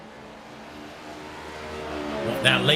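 Next Gen race cars pulling out of pit road at Pocono, engines rising steadily in pitch and loudness over a few seconds, with a commentator talking over the building roar.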